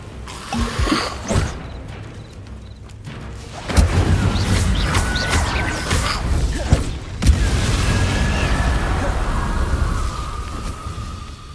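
An Incendio fire spell cast in Hogwarts Legacy bursts out with a sharp whooshing boom, repeated a couple of times over a steady rumbling game backdrop.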